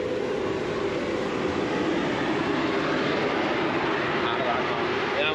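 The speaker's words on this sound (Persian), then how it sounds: "اینم قطارمونه." A passenger train at Ardakan station in Yazd province, Iran, a loud continuous rolling rumble with steady wheel noise throughout, heard up close.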